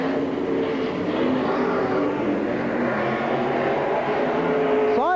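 Race cars at Silver Spring Speedway in 1992 roar down the front straight into turn one, a loud, continuous pack of engines droning throughout, with one engine's pitch climbing sharply at the very end.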